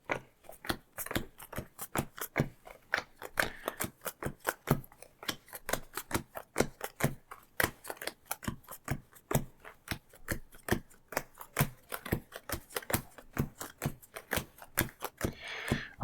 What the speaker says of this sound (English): I'm just going to do a quick shuffle.